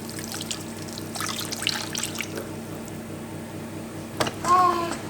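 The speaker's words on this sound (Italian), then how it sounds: "60 grammi di pane vecchio che andremo ad ammolare con un pochino d'acqua" Water from a mozzarella tub poured onto about 60 grams of stale, dry bread in a kitchen, a soft close trickle and splash lasting a few seconds, with a brief louder pour near the end and no talking.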